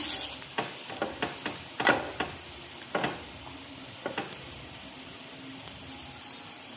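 Poha cutlets fry over medium flame in a pan, a soft steady sizzle broken by a dozen light scrapes and taps as they are turned, quiet and close.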